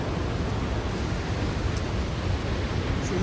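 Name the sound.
waterfall, Crescent Falls, Alberta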